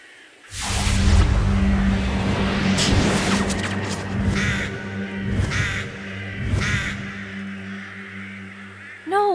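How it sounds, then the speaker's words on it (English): Crows cawing around a magical door in a hidden-object video game, several harsh caws over a rushing, swooshing magical ambience, with a brief bright chime at the end. "Those crows were attracted to the magical door."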